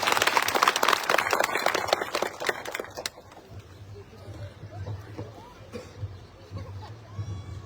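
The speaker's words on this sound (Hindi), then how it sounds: "एक बार ताली बजाइए इनके लिए" Audience at a Sadguru Kabir ashram gathering claps together in a dense burst of applause for a few seconds, which fades into crowd murmur and a low hum as the clapping dies away.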